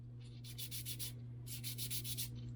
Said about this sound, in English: just take some sandpaper and get rid of all that glaze that's on the disc.